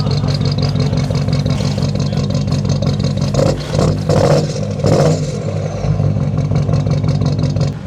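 A Porsche Cayenne V8 diesel engine, sooty from a salvage wreck, idles with a steady low rumble, then is revved in several short bursts before settling back, loud and close.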